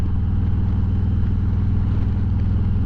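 Motorcycle fitted with a Vance and Hines Eliminator 400 exhaust idling close to the microphone, a loud, steady, deep rumble with an even pulsing throb throughout.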